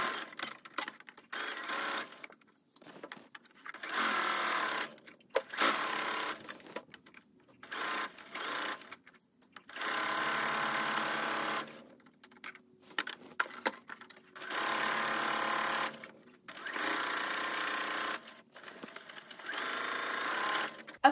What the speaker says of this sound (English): I'm gonna take this over to my sewing machine and I'm gonna sew the tulle all the way around